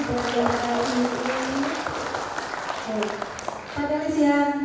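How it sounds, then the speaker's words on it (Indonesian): An audience applauds at a regional election campaign event in Serang, a steady patter of clapping beneath someone speaking loudly over a microphone. "tepuk tangan sekali lagi buat Bapak ini"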